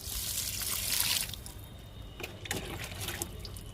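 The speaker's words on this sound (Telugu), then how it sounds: "జామ మొక్కకి వాటర్ ఇచ్చేద్దాము." Water splashes and trickles steadily onto a guava plant for about a second, then softer intermittent dribbling and pattering follow, close by with no talking.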